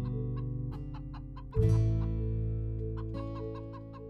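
Chickens on a farmstay in Mamring, North Bengal, cluck in a steady run of short, close calls over a constant low hum, with one louder burst partway through.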